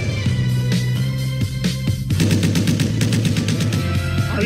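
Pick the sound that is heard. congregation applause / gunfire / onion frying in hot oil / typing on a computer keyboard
gunfire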